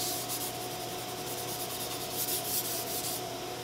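Sandpaper rubs steadily over a wooden gun stock from a Colonial rifle kit, passing over the nose cap in a continuous, close, even scrubbing with no pauses.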